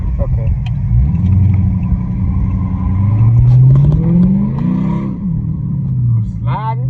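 A car engine revs and climbs in pitch as it accelerates on wet tyres and slides, loud and near, with a voice talking over it.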